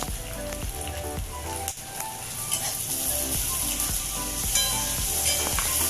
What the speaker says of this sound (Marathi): आता घालते आणि त्याच्यासोबत टॅमॅटो पण मी घालून घेते